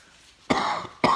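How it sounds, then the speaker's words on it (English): An adult gives two sharp, close coughs about half a second apart, with quiet room tone before the first and no speech. "It's like when I sneezed and coughed instead."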